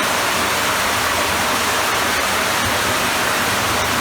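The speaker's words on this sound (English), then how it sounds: "we've got a big sump where all the water goes down there" Water pours steadily down into a large sump inside an abandoned 1700s mine, a constant broadband roar like a waterfall that fills the space evenly without a break.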